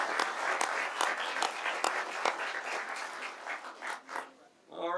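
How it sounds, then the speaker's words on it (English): Audience applause fills a city council meeting chamber, honoring a Sea Scout ship: a dense, steady patter of many hands clapping with a few sharper claps standing out, holding for about four seconds before quickly dying away. "Let's give a round of applause."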